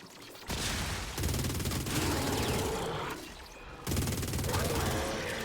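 Rapid bursts of video game weapon fire from the player's own gun, dense and loud, with brief pauses between volleys amid crashing impacts.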